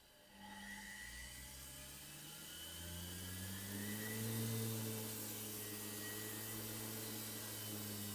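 A washing machine commutator motor runs under a speed controller, whirring up from low to a higher pitch and then holding a steady, fairly faint hum.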